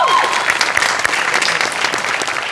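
An audience at a Marathi comedy show bursts into loud, sustained applause, many hands clapping densely and evenly throughout.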